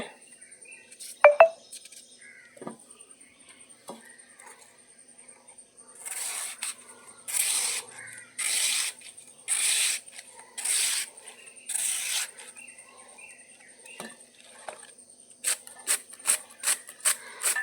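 Taro stems being cut up with a knife: a run of evenly spaced, rasping slicing strokes, then a quicker series of shorter cuts, close and fairly quiet, with a few scattered clicks between.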